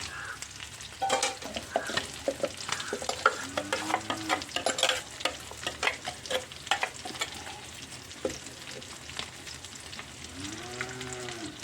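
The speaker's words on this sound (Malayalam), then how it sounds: "നമ്മുടെ മീൻ പുളി നന്നായി തിളച്ചിട്ടുണ്ട് നമുക്ക് ഇതിലേക്ക് തേങ്ങ ഒഴിച്ചു കൊടുക്കാം" Coconut paste goes into a boiling Palakkad-style sardine and okra curry and is stirred, with close scraping stirs and bubbling over a low simmer, plus a couple of short squeaky tonal sounds.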